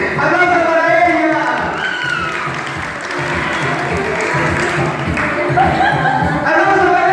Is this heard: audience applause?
yes